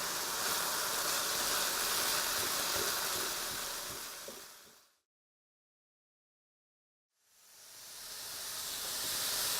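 Pork browns in a hot pan for fried rice with a constant loud sizzling hiss that fades out into silence, then swells back up to full strength.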